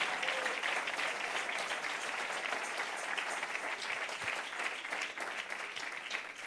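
A church congregation claps in praise during a worship service, steady dense applause from a crowd filling the room at an even level throughout, with no speech heard.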